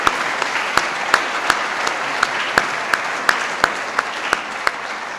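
Sustained audience applause for award winners at an academic recognition ceremony, a dense steady wash of clapping with a few sharp louder claps standing out, continuous throughout and with no talking.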